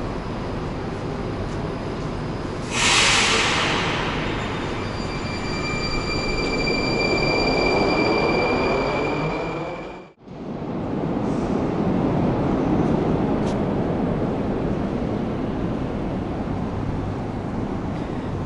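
A Moscow Metro train at an unusual station with a single central track, its loud steady rolling rumble filling the platform, with a brief high squeal of wheels or brakes and a momentary dip as cars pass.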